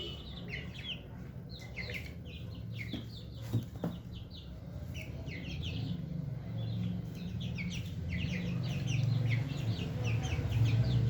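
Twenty-five-day-old broiler chicks kept at home peep and chirp busily in a dense, continuous chorus, with low clucking underneath that grows louder toward the end.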